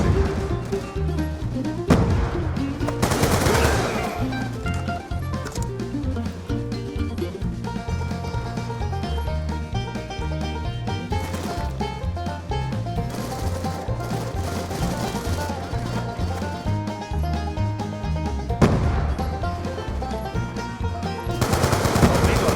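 Rapid automatic gunfire and bursts of shots fill a Black Ops 2 online match, rattling in dense rhythmic volleys with a few louder booms, mixed with game music and occasional announcer voice.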